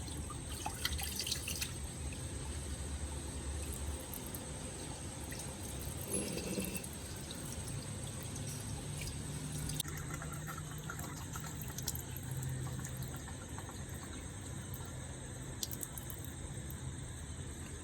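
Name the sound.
water being poured off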